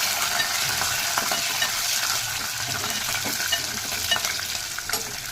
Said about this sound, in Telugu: పచ్చిమిర్చి, ఇవి కొద్దిగా ఫ్రై కావాలి.